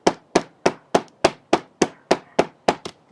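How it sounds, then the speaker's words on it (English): Ten sharp, evenly spaced hammer blows in a steady rhythm, each a crisp close knock against a muffled surface, the last one lighter, as flowers are hammered onto fabric. "you kind of notice where your flowers are and you hammer the heck out of it"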